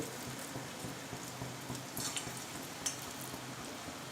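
Potato pakoda fritters frying in hot oil, a steady close sizzle with faint bubbling crackles running continuously throughout.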